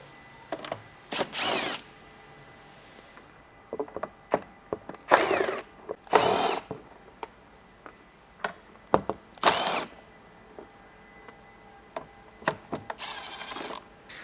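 A power tool with a 10mm socket spins bolts out of the top of a 2014-2024 Toyota 4Runner rear bumper, in several separate loud whirring bursts with short clicks and quiet gaps between them.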